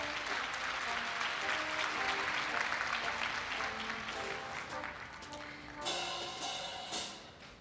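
A large audience applauds at a Korea University ceremony: sustained, dense clapping from a big crowd, with some tonal sound mixed in and a brief swell of cheering near the end before the clapping tapers off.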